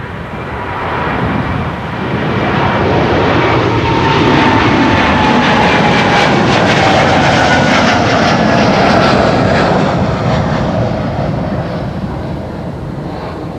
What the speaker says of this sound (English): We're hearing an A400. I think we're hearing an A400.